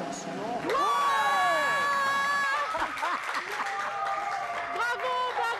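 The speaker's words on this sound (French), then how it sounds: "Le public applaudissait." Studio audience at a game show breaking into applause and cheers, a dense loud crowd wash with whoops and a sustained tonal voice rising over it, people shouting excitedly throughout.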